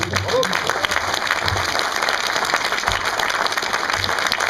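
Steady applause from an audience at La Scala in Thionville fills the whole stretch, dense and continuous with no pauses.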